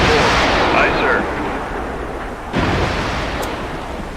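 A submarine launches a standoff weapon from its torpedo tube in the naval game Cold Waters, heard as a loud, sustained low whooshing rumble that fades, then a second sharp surge of rushing noise partway through.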